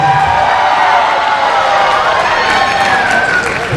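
A wrestling crowd makes loud, sustained noise of mixed cheering and shouting voices at an event, dense and continuous from start to finish.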